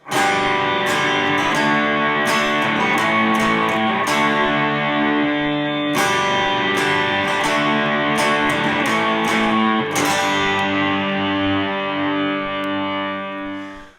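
Distorted electric guitar plays the driving riff of a song at a brisk tempo, loud and continuous for the whole stretch, with no voices.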